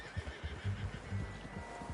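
A horse neighs and whinnies in the Red Dead video game, a loud close call set against clip-clopping hooves and some low rumble, with no talking.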